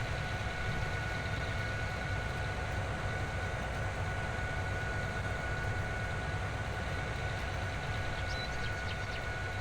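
A steady, droning tractor engine in a farming simulation game set in Griffin, Indiana, running at constant speed with an even, unbroken hum and no voices over it.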